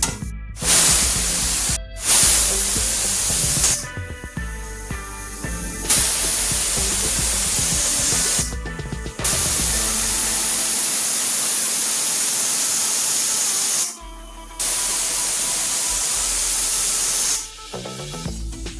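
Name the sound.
mixer grinder grinding chaat spices with black salt and amchur powder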